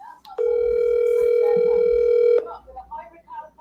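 Phone call tone while placing a call, a single steady electronic tone lasting about two seconds, loud and clear, with people talking before and after.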